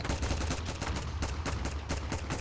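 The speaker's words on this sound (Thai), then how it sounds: "เสียงปืนดังมาก" Rapid bursts of gunfire ring out in the Roblox video game, loud and continuous, shot after shot with no pauses.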